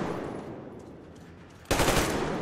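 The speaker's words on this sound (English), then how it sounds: "Man, this shooting." Gunfire in the video game Metro Exodus on PlayStation 5: a steady low rumble suddenly breaks into a loud, sustained burst of rapid automatic shots, close and harsh.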